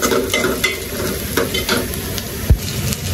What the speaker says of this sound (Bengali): পেঁয়াজ ভাজা হয়ে গেছে, সাথে একটু জিরা বাটাও দিয়ে দিছি